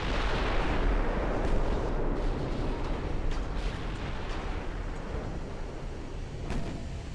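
Naval guns of 13.6-inch calibre boom in a naval warfare video game, a dense, continuous roar of heavy gunfire and rumbling blasts that fills the whole stretch loudly, with no talk over it.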